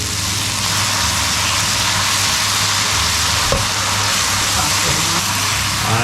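Leeks in a pan hiss and crackle steadily as 100 ml of white wine goes in, a close, continuous sizzle with a low hum underneath.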